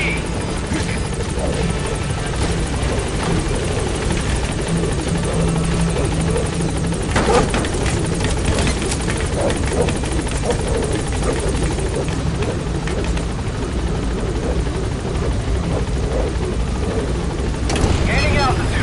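A helicopter in the video game Metal Gear Solid V: The Phantom Pain makes a loud, continuous rotor thrum and engine whine throughout, with a radio voice speaking over it.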